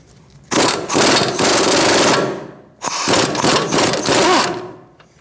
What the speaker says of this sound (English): put your socket on the head of the bolt, and we're just going to take off the nut for now on this top one